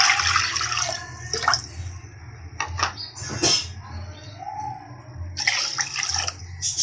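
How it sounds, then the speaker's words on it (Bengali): Water poured into a wok, ready for boiling flat beans and potatoes, comes through as two short splashing bursts over a low steady background hum. "পানি দিয়ে দিব।"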